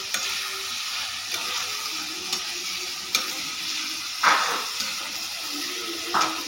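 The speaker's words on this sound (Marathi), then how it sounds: "तव्यावरती टमॅटो कांदा आणि ऑइल टाकून घेतलेला आहे" Tomato, onion and oil sizzle steadily on a hot griddle while being stirred for an egg chutney, with a continuous frying hiss and a few sharper scrapes and clicks of the spatula.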